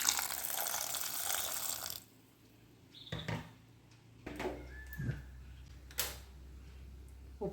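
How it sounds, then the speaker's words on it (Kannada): Water pours briefly from a tap or jug onto cut bitter gourd pieces for boiling, a short gushing splash followed by quieter kitchen clinks and knocks. "ಈಗ ಇದನ್ನು ಸ್ವಲ್ಪ ನೀರು ಹಾಕಿ ಬೇಯಿಸ್ಕೊಳ್ಳುವ."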